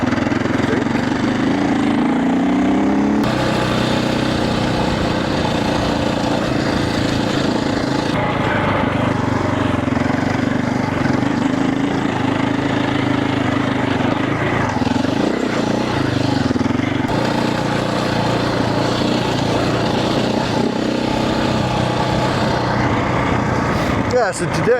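A motorcycle engine drones steadily while the bike is ridden on a training outing, a continuous close hum with slight pitch shifts.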